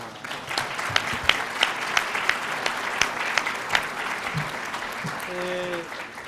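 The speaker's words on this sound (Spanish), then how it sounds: "Les pido un aplauso para..." A conference audience claps steadily for several seconds, a crowd of hands with sharp individual claps standing out, then the applause fades as a voice begins.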